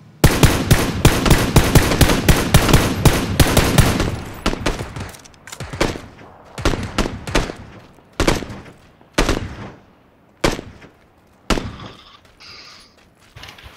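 Rapid automatic gunfire in a video game, aimed at an approaching UAZ car, rattles loud and close in a fast burst, then trails off into scattered single shots and short volleys with long pauses.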